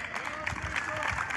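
Steady applause and crowd noise welcome Tommaso Di Nardo of the PER list at a public political event, a dense continuous clatter of clapping filling the whole moment with voices mixed in.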